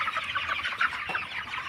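Sonali chickens on a poultry farm cluck steadily in a dense, overlapping flock chorus, near and continuous, with a few louder individual calls rising above the mass and no voices present.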